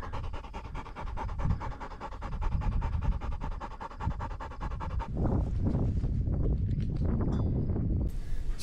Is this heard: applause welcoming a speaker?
no